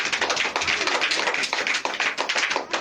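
A church congregation claps hands during a Hindi-language sermon, producing dense, steady, rapid applause that fills the space continuously from start to finish.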